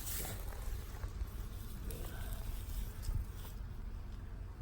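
A steady, dense buzzing of many honeybees fills the air, close and continuous, with faint rustling and low wind noise underneath.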